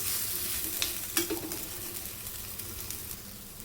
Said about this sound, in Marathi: थालीपीठ आता आपण दुसऱ्या बाजूने पलटी करून घेऊया.